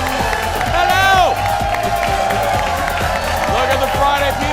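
A studio audience at a Friday show cheers, whoops and claps loudly and continuously, with rising excited shouts over the noise.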